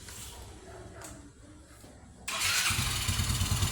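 An automatic scooter fitted with a new bearing seater starts up after a stretch of low background noise, jumping abruptly to a loud, steady running engine that continues to the end.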